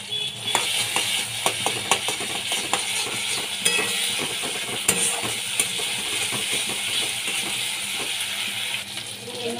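Ginger garlic paste fries in a pan for a red fish curry, with dense clicking, scraping stirring and a low sizzle underneath, steady and close, without speech.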